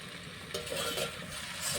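A spatula stirs taro and okra frying in a pan, scraping through a steady close sizzle with a few louder stirring bursts and a clatter at the end.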